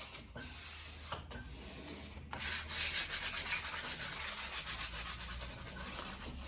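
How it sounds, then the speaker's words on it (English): A painted cabinet gets light hand sanding with 400 grit paper: close, steady rasping strokes that turn into a rhythmic back-and-forth scrubbing, with no talk. "400 grit, and we're just going to get a light sand everywhere."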